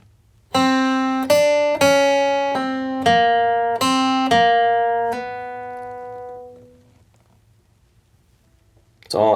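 Close, clean acoustic guitar picks the second measure of a country bluegrass lick in G as a run of even eighth notes, the final one left to ring and fade, followed by a soft handling noise at the end.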